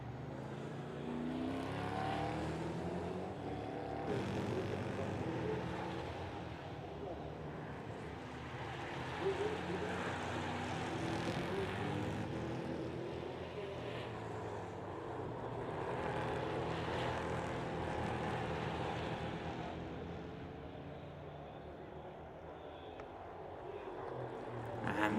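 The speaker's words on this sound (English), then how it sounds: "And Capelli, you see him firing down through the gears there, the flames emitting from the exhaust" Engine noise from a NASCAR Euro Series race car at a Belgian grand prix circuit, its note falling as it downshifts through the gears, sustained and fairly loud over dense trackside race ambience.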